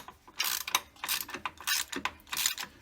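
A ratchet loosens the 15 mm adjuster bolt beside the fan belt on a Jeep Cherokee engine during timing chain work, giving several quick bursts of rapid metallic clicking, close and loud with no speech.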